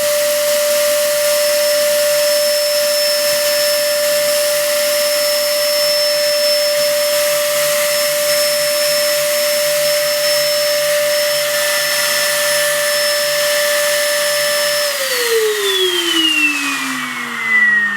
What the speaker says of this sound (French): la vis sans fin s'arrête, la ventilation continue pour finir d'aspirer le dernier granulé